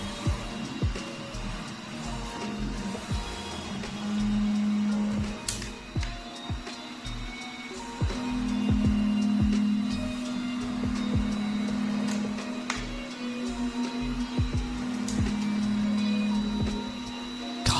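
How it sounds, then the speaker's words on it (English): Four-colour toolchanger 3D printer running a multicolour print, its stepper motors whining in steady tonal bursts that start and stop repeatedly over a constant mechanical background hum. "I want to see the printer printing."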